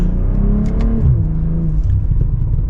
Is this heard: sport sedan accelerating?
yes